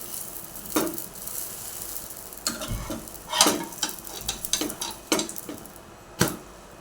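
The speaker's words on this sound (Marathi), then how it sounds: "पाव दोन्ही बाजूने असे छान शेकून घ्यायचे इकडनं तिकडनं पलटी पलटी करून" Pav with a folded Schezwan omelette toasting in a frying pan, flipped from side to side: a steady soft sizzle with intermittent scraping and turning clatters from the spatula, close and moderately loud, no talking.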